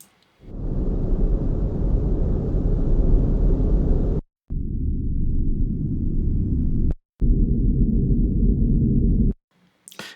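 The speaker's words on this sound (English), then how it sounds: "And then we have room tones." Steady, dull broadband hiss of room ambience plays in three segments separated by brief silent gaps, fairly loud and without any voices.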